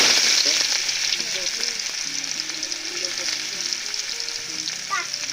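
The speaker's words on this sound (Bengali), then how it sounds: "তেল গরম হয়ে গেছে, এবার তেলের ভিতরে পেঁয়াজ দিয়ে দেওয়া হচ্ছে।" Sliced onions fry in hot white cooking oil, a steady loud sizzle that fills the whole stretch, with faint spoon stirring and a few quiet tones in the background.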